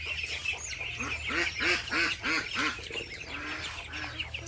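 Domestic ducks quack in a quick run of nasal, repeated calls during feeding, loud and nearby at first, then thinning into softer scattered quacks.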